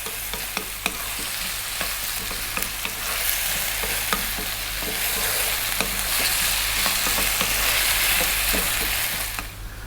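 Potatoes stir-fry in a pan over high heat for a spicy Indian potato fry, giving a steady loud sizzle broken by repeated sharp clinks and scrapes as the pieces are tossed and kept moving, with no talking.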